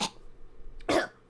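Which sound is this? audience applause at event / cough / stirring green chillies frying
cough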